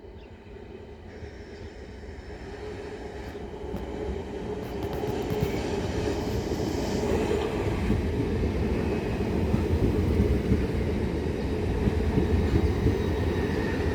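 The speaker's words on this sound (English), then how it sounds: "the 1001 Southern service to Redhill, which should be worked by" Southern electric multiple unit 377308 pulls out of Tonbridge station toward Redhill, a rumble that swells steadily as it gathers speed, with faint wheel squeal and clatter and no talk.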